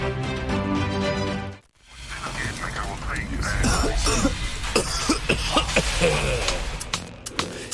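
Repeated harsh coughs sound in a broadcast health announcement, a series of close, loud bursts following a short musical opening.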